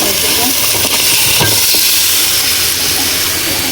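Goat trotters tipped into frying spiced masala in a pan, a loud steady sizzle and hiss with a few clunks as the pieces drop in, no speech.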